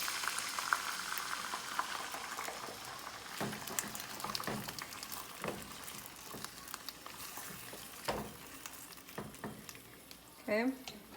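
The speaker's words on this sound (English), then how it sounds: "once the chilies are simmering, we will let them simmer" Steady bubbling and sizzling of chilies simmering in a pan, with occasional clinks and stirring sounds.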